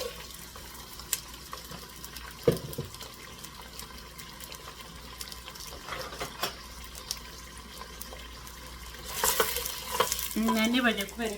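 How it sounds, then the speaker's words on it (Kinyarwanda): Carrots fry in canola oil in a hot pan with a low, steady sizzle and occasional scraping stirs. The sizzle grows louder and busier near the end. "Noneho duhita duhera kuri karoti, kuko isafuriya yacu yari yashyushye."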